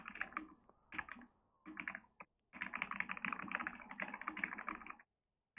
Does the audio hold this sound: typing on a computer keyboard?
yes